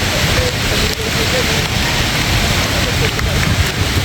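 Dense, steady roar of wind-driven rain in a mango orchard in Rajshahi during Cyclone Remal, loud and continuous with no break, like a heavy downpour in gusty weather.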